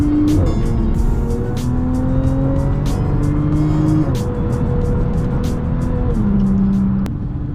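A supercharged car engine on a night drive, heard from inside as a loud, continuous drone whose pitch climbs and drops through gear changes, with a rhythmic ticking over the top.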